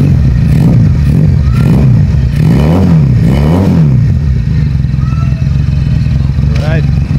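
A custom project motorcycle idles loudly up close and is revved several times in rising and falling bursts, with voices talking over the engine noise.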